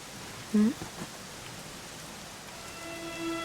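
Steady rain falling in Dragon Quest XI, a soft continuous hiss of drops throughout, quiet and even, with a brief tonal sound near the start.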